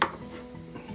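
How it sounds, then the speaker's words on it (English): A blunt kitchen knife cuts through oven-baked plant-based chicken breast on a hard board, a single clack at the start followed by soft dragging slicing scrapes close by. "I don't have the best knife, but I'm just going to slice that"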